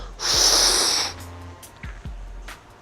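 One loud, hissing breath is drawn forcefully against a tight weightlifting belt, lasting about a second, followed by a couple of quieter, short breaths up close.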